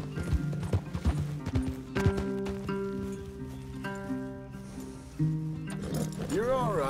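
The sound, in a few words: horses clip-clopping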